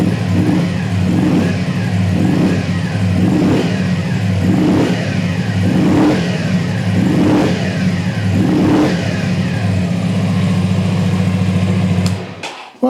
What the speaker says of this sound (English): Let's have a little rev and see what it sounds like.